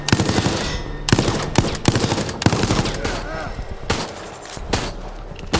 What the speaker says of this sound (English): get a few bursts off with the machine gun